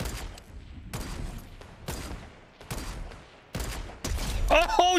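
Rapid bursts of gunfire from a Fortnite trio match, several sharp volleys spread across the moment, with people talking over the shooting.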